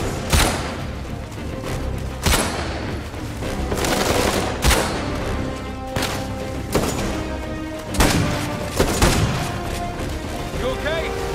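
Gunfire in Uncharted 4, heavy shots ringing out every second or two with sharp loud cracks and booming tails over a constant background of combat noise.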